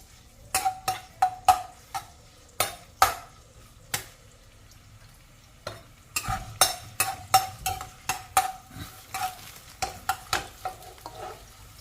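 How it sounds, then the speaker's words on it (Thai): Ground pork stir-frying in oil in a pan for instant noodles, a spatula scraping and tossing in repeated close strokes over a soft sizzle, with brief pauses, no talking. "ใส่หมูลงไปผัดนะคะ"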